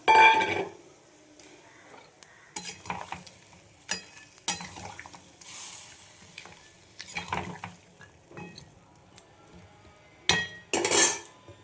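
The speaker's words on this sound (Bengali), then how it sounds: "এবার আমি দিয়ে দেবো জল, আর এই বড়ি উচ্ছে এগুলো দিয়ে দিলাম।" Water, bori and bitter gourd go into a pot for shukto: clanking utensil and pot knocks, scraping and splashing bursts with brief sizzles between quieter pauses, close by and without talk.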